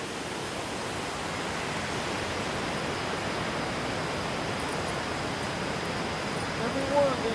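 Water pours steadily over the Second Broad River Dam in Henrietta, North Carolina, a constant broadband rush with no letup, close and fairly loud throughout.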